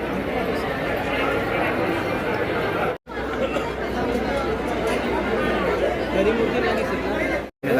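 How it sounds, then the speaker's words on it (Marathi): Dense crowd chatter from a queue inside Tuljapur temple, many overlapping voices at a constant level, close and steady, broken by two brief silent gaps. "आत गर्दी आहे."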